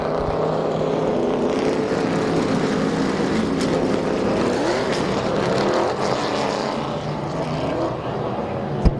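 Late model race cars roar around Midvale Speedway in an 8-lap heat race, a dense, loud, continuous engine drone with shifting pitch as the pack passes, steady throughout.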